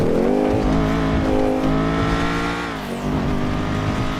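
A car engine in a GTA roleplay game revs loud and sustained as the car reverses, its steady droning tone dipping briefly then climbing again, with no talking.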